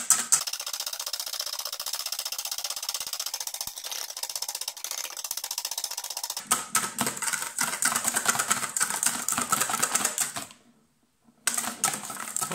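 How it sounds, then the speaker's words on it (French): Cream whisked by hand in a bowl for a no-bake sweet cheesecake, a steady rapid ticking scrape of the whisk that continues throughout, pausing briefly near the end before resuming. "je vais la monter au fouet"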